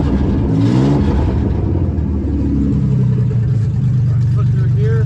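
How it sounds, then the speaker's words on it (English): A car engine revving as the gas pedal is pressed after a radiator replacement, a loud close rising drone that holds steady, with someone talking over part of it. "Go in here, hit the gas a little bit, get that flowing."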